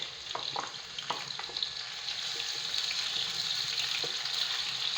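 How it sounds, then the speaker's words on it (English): White onions frying in hot oil in a pan for okra soup, a steady close sizzle with occasional scraping stirs and light clinks, no talking. "So I let my onions cook."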